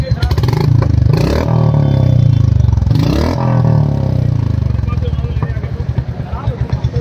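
A Royal Enfield Classic 350 motorcycle with an aftermarket exhaust revs hard and loud up close, with throaty bursts over a steady rumble, while someone talks throughout.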